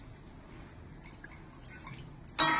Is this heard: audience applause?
no